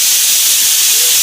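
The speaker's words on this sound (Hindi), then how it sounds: "कुकर की सीटी भी बज चुकी है" A pressure cooker whistle lets off a loud, steady hiss of escaping steam, close by and unbroken for about a second.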